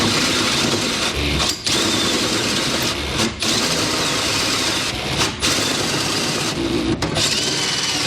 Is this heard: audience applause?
no